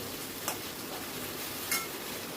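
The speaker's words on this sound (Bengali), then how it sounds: "দিয়ে গাঁটি কচুগুলোকে আবার একটু নাড়াচাড়া করে নেব।" Gaanthi kochu (taro) fries in a pan, giving a steady, soft sizzle with two brief scraping clicks from stirring.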